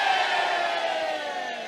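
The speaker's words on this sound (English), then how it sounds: "We say A as loud as we can for the happy couple." Wedding guests shout a single loud, sustained collective cry as a toast, a crowd voice rising together and tapering off within a couple of seconds.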